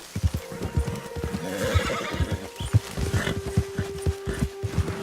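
A horse in Red Dead Redemption 2 whinnies amid a steady, rhythmic beat of hooves. The close, prominent gallop carries throughout, and the neigh stands out clearly over it.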